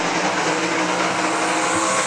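Race cars running single file around the I-96 Speedway oval, a loud continuous engine roar with a steady drone and slight tire noise, sustained without any talk.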